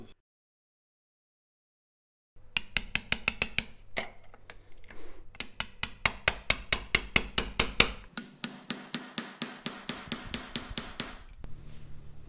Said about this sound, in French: Je dois à présent la faire entrer dans l'ouverture avec un marteau et un petit burin.